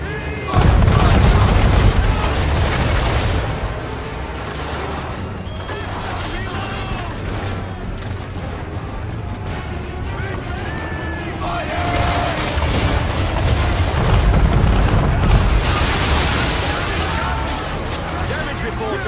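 Heavy naval cannon broadside from a sailing warship in Assassin's Creed III, a rolling series of deep booms and sustained rumble that swells and fades over water noise, with shouted voices under the gunfire.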